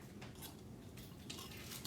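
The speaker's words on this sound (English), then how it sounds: "Just take your knives and cut it just to make that butter smaller." Knives cutting cold butter into flour in a bowl for crunch-top muffin pastry: soft, continuous scraping and light clinking of metal blades against the bowl, close and quiet with no talking.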